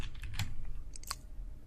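A few quick keystrokes on a computer keyboard while entering an SQL query, close and clear, with a short pause between light clicks and no voices.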